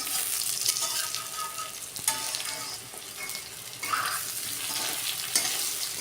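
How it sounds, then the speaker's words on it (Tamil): Potatoes fry in hot oil with a steady, close hiss and crackle, broken by occasional stirring scrapes and bursts of bubbling, and no one speaking. "அதே எண்ணெயில் பார்த்தீங்கன்னா உருளைக்கிழங்கும் நான் வந்து ஃப்ரை பண்ணி எடுத்துக்கிறேன்"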